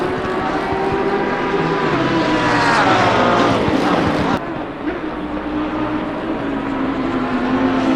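Lamborghini and GT race cars screaming past at the Nürburgring, loud high-revving engines rising and falling with gear changes, one car passing close before the roar cuts down to steadier engine noise.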